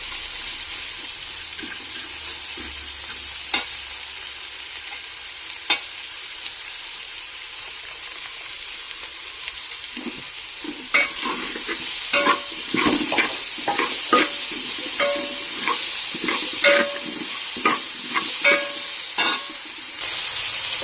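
Oil sizzling in a pan, tomatoes and coriander going in, a steady hiss with a run of scraping stirs and clatters building toward the end.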